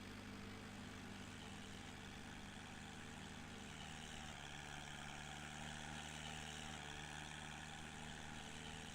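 Steady low engine drone of a tractor in a farming video game, idling evenly and continuously at moderate level throughout, with no voices.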